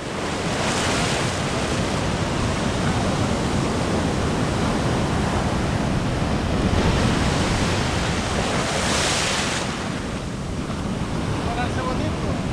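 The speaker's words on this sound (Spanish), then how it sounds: "Por eso es que las olas revientan prácticamente en la orilla." Ocean waves breaking right at the shoreline on a fishing outing, a continuous loud wash of surf with swelling crashes and wind buffeting the microphone.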